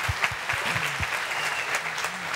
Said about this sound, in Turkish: Fırat'a ayrıca bir alkış.